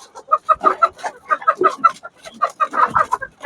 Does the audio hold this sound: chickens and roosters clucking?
yes